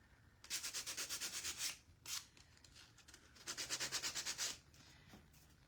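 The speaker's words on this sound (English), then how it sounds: "almost done getting all the pieces sanded" Craft kit pieces for a gingerbread-in-a-mug DIY kit being sanded by hand, in two bursts of quick rhythmic rubbing strokes separated by a brief pass, faint and close with no talk.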